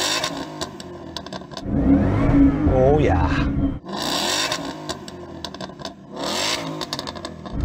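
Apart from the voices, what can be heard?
Ford Mustang engine revving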